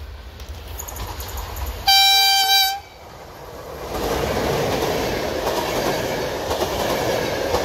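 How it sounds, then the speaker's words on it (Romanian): A regional passenger train on a Romanian branch line sounds a loud, steady horn blast for about a second, then rolls past with a broad rumble and wheel noise that builds and continues to the end. "Un regio. Tren regio"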